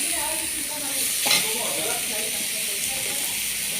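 Cabbage and carrot stir-fried in a pan, a steady broadband sizzle with soft scraping of a utensil, one louder stir burst midway, while a voice talks quietly over the cooking.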